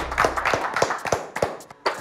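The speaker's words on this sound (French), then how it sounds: "On peut l'applaudir, les gars." A few people clap during a French rap crew battle show, with scattered, uneven handclaps close by and short gaps between them, no sustained applause.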